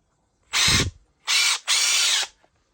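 A DTS 141 oil pulse driver being run after repair, three short loud whirring bursts of the motor with brief pauses between them, close up and with no talk.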